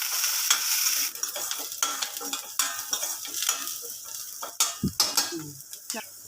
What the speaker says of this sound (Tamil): சேர்த்துட்டு நல்லா வதக்கி விட்டுக்கலாம்.